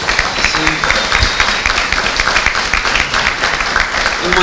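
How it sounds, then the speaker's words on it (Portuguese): A church congregation at a Sunday service applauds visiting missionaries, a pastor and his wife from southern Africa, loud, dense and sustained clapping that fills the room throughout. "Uma salva de palmas, por favor."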